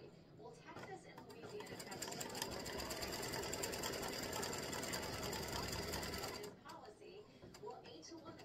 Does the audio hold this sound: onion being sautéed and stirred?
no